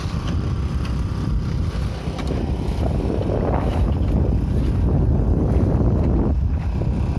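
Water pump machine running beside a pond being drained for fishing in the Konkan, a steady outdoor engine drone with wind buffeting the microphone throughout.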